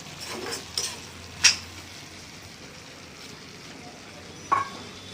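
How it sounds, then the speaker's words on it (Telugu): Brinjal fries in a pan with a soft, steady sizzle as tomatoes go in. A few sharp clinks and scrapes of a utensil stand out against the quiet hiss. "ఇప్పుడు మనం టమాటాలు వేసుకోవచ్చండి. టమాటాలు వేసుకుందాం."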